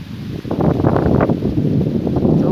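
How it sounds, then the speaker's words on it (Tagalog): Strong wind gusting across an open cornfield, a loud steady roar with buffeting rumble on the microphone that builds after a brief lull, with no voices. "So mahangin guys"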